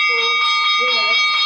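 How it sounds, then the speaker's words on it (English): A session-ending bell rings steadily and continuously, a bright sustained metallic tone with a faint pulsing shimmer, loud and close, with no talk over it. "I think that's the bell to end it, Gary."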